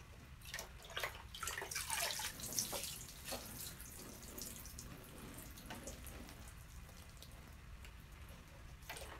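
Water poured from a cup into a Mittleider grow box, splashing and trickling repeatedly, louder at first and then settling into a steady, softer running sound.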